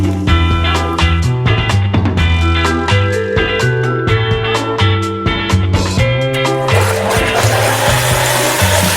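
A blender whirs loudly and steadily, blending a burger, fries and soda, its motor pitch shifting as chunks tumble inside, growing harsher and noisier toward the end.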